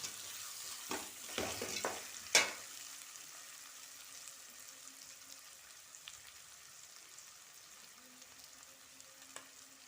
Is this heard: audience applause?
no